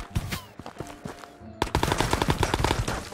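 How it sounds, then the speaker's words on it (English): Gunfire from a bot in Ghosts of Tabor, a virtual-reality shooter: scattered single shots early on, then a rapid run of cracking shots close by, with clicks and equipment handling in between. "Gonna ignore that bot shooting at me."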